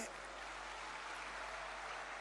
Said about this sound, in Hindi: आप भी तालियां बजा के अभिनंदन करें